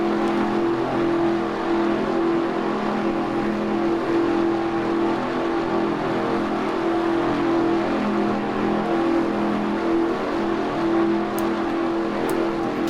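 NASCAR race cars in the NASCAR Racing 2003 video game at Orlando International Speedway, a steady droning engine roar from several cars held at constant level throughout, fairly quiet and uniform with no talk.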